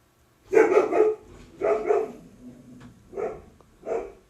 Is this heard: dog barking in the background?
yes